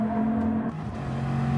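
The Bugatti Veyron Vision GT race car in a racing video game hums with a steady engine drone. The pitch dips slightly partway through, then settles again, with no talk over it.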